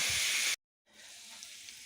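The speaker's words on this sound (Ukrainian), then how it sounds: "Доки моє м'яско ще смажиться" Loud sizzling of meat frying in a pan, briefly cut to silence, then the hiss returns softer and steady.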